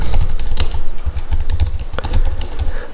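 Fast, uneven keystrokes on a computer keyboard while writing code, a close, busy clatter of taps running continuously without pause.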